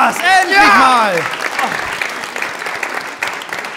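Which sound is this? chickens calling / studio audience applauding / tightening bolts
studio audience applauding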